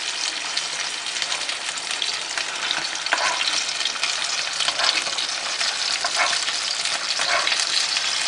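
Fish coated in masala frying in oil, a loud, close, unbroken crackling sizzle with bubbling spatters throughout, no one talking.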